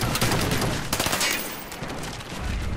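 Rapid bursts of automatic gunfire in Call of Duty Black Ops multiplayer, a dense, crackling volley up front that thins into scattered shots, heard alone without talk.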